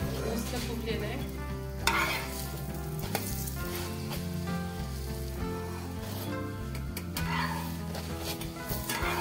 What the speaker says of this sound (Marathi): दोन्ही साइडने तूप लावायचं आणि कमी गॅसवर भाजून घ्यायचं.